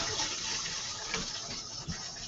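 Water kefir or kombucha liquid is poured into a brewing container, a steady close splashing gush with small gurgles, alone without talk.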